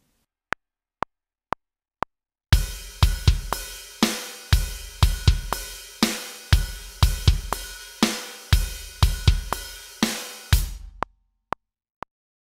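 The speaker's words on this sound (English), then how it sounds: "It's a quarter note rhythm you play on the hi-hat" Four click count-in ticks, then a quarter-note rhythm on a slightly opened hi-hat with kick and other drums, played loud and steady for several bars before the clicks return.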